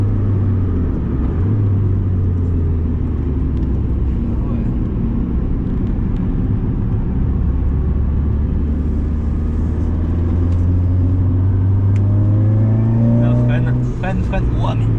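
A car accelerates hard on a race track, its engine droning loudly and rising in pitch across the run, with people talking over the motor throughout.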